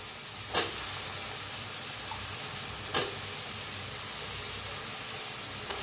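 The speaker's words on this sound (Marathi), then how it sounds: "त्यातच टाकूया बटाटो बी तेलात छान असं भाजून घ्यायचं।" Diced potatoes frying in oil for sabudana khichdi, a steady soft sizzle with two brief sharp crackles standing out.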